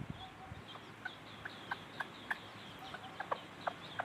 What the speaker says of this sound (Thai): ไก่น้อย อยากมากินน้ำเขาโดนจิก